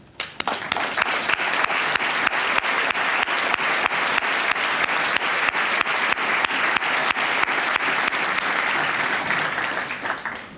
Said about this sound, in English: I would just like all of the city staff that are here to stand for our applause.